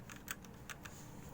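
Faint keystrokes on an RK61 mechanical keyboard, a few quick clicks at uneven spacing in a quiet room.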